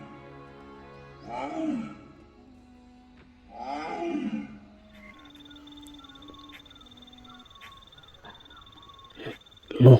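A tiger gives two deep, rumbling roars in a jungle at night near a bonfire, each lasting about a second, with a steady hum of night insects or frogs underneath and a sharp knock at the very end.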